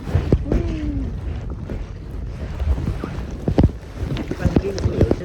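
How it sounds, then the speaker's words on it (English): Choppy ocean waves slap and splash around a kayak, with gusty wind buffeting the microphone and occasional paddle knocks, loud and close. "Waves!"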